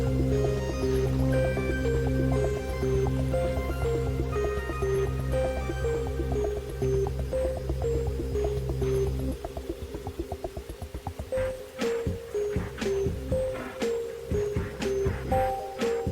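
Steady trickling and dripping of water running down small stairs like a mini waterfall inside a giant rainforest vivarium during a simulated storm, continuous with scattered splashes over a low hum.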